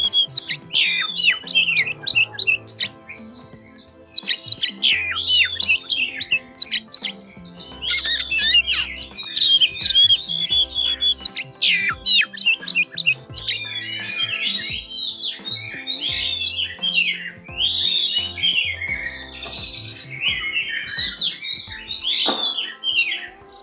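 Oriental magpie-robins (kacer) calling nonstop and loudly at close range, with harsh squawks mixed with rapid chirps and whistled phrases overlapping through the whole stretch.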